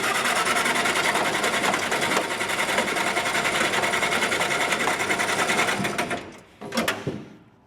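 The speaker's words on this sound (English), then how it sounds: "Watch, it's going to start and run like a sewing machine." A Jeep flatfender engine, just fitted with a new fuel pump, idles in a steady fast mechanical patter close by for several seconds before sputtering and cutting out, followed by a few clanks.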